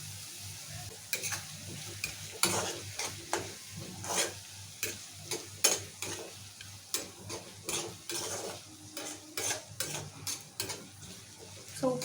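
Sliced onions fry with salt in a pan as the base for chicken curry, a steady soft sizzle broken by frequent scraping stirs and clinks of a spoon against the pan, close and alone.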